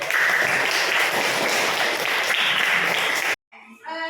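Classroom students applaud their classmates in group 3, a steady continuous burst of many hands clapping that stops abruptly, followed by a brief quiet and a voice.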